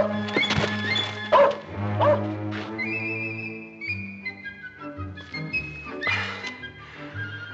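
A dog in a 1960 Bonanza western scene barks and yips repeatedly at close range, mixed with whimpers, with no clear talking.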